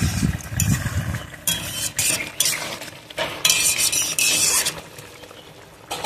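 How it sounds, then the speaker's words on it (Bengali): Shrimp and pointed gourd dolma curry bubbling in a covered pan, loud and near, with irregular bursts of spattering and popping that rise and fall over a continuous simmer. "খুব সুন্দর ফুটছে, বক করে আওয়াজ হচ্ছে।"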